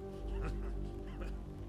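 A dog whimpering in the video game Ghost Recon Future Soldier, a few short high whines over a low droning background hum.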